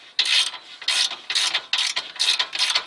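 A 1/2-inch ratchet working a bolt loose on a VW MK6 GTI, six rapid bursts of clicking pawl ratchet strokes in quick rhythm, close and crisp.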